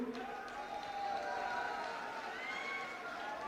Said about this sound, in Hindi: अभी ताली मत बजाओ